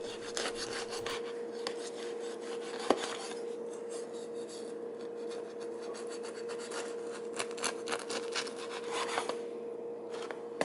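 A chef knife saws through a loaf of bread with repeated close rasping strokes and crumbly scratches, a steady back-and-forth cutting rhythm with occasional light taps and no talking.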